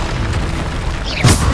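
Bombarda spell blast in the Hogwarts Legacy video game: a loud, short booming burst near the end, over a dense layer of game noise and effects, with no talk.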